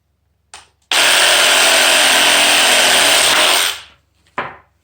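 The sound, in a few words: electric saw cutting deer bones in half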